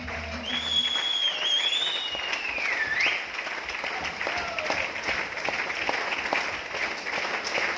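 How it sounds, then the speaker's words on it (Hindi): Sustained audience clapping at a rice bran oil dealers' event, steady and fairly loud throughout, with a whistle-like tone gliding overhead early on and faint music beneath. "तालियां जोरदार होनी चाहिए"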